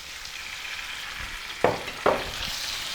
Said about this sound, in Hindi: अब हम इसमें शामिल करेंगे चिकन।